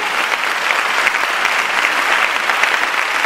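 A church congregation claps and cheers for the Lord during a French-language prayer service, a dense, steady wash of applause that fills the space without pause.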